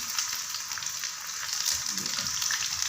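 Chicken legs and potato chips frying in hot oil over medium heat give a steady, close crackling sizzle with bursts of bubbling throughout, and no talk.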